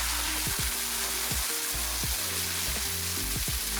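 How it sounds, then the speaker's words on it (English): Pork with tomatoes, onions, garlic and tamarind sizzles in a pot for pork sinigang, a loud steady hiss with repeated thuds and scrapes of stirring, close by. "Then you can add 1 cup of tamarind"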